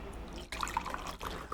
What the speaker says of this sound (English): pour myself some wine